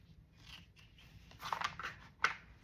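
Scissors snip through paper while trimming a page for a K-pop journal, a few quiet crisp cuts close up, the last one the sharpest.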